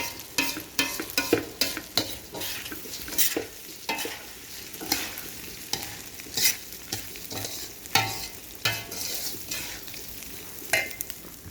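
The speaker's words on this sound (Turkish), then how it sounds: "bu şekilde kavuruyorum ben" Food for karnıyarık being stirred and sautéed in a pan, with a continuous sizzle broken by frequent irregular clacks and scrapes of a spoon against the pan throughout.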